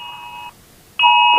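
Electronic alarm beeps during a Philippine TV news broadcast: two steady, loud, sustained tones separated by a brief gap, with no talk over them.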